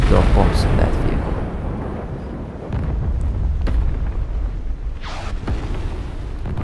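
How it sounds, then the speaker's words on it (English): Heavy booming blasts as bombs hit a tank in War Thunder Mobile, a loud rumble at the start and more thuds later, with someone talking and aircraft noise in the background. "let's drop bombs on that vehicle"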